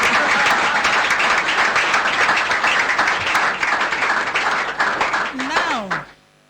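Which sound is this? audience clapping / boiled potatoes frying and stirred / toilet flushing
audience clapping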